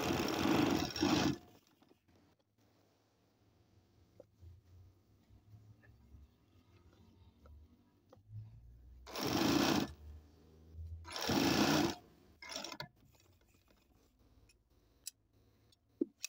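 A sewing machine stitching a garment sleeve runs in three short loud bursts, one at the start and two close together later, with quiet ticking and handling noises in the gaps between.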